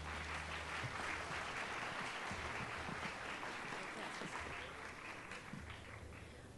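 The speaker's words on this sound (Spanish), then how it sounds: "Recibamos a nuestros invitados con un aplauso" Audience applause for invited guests at the Bogotá International Book Fair, a steady wash of clapping across the room that holds at a constant level, with faint low murmurs underneath.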